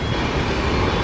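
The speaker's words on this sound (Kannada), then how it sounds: "ನಮಗೆ ಕ್ರಾಸಿಂಗ್ ಆಗ್ತಾ ಇದೆ ಹೊಸಪೇಟೆ ಪ್ಯಾಸೆಂಜರು" A Hosapete passenger train passing at a crossing, heard as a steady, dense rolling rumble of wheels and carriages close by, continuous and loud throughout with no pauses and no talk.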